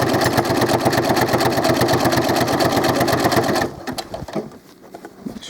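A sewing machine stitching doll clothes runs in a fast, steady, loud motor buzz with rapid needle pulses, then stops and leaves soft handling noises.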